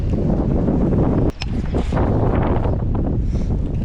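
Strong wind gusts over a river, roaring and buffeting the microphone loudly and continuously, with a brief lull partway through.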